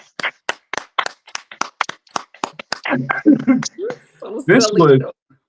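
Several rhythmic hand claps mark a round of applause on a morning show, sharp and fairly close, before voices take over and talk fills the rest.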